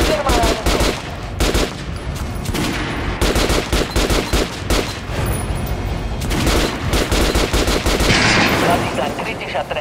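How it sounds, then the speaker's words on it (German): Rapid automatic gunfire aimed at an armored target dummy in the shooter game Metro Last Light Redux, loud bursts of repeated shots separated by brief pauses. "Jetzt schieß auf die Attrappe mit Brust."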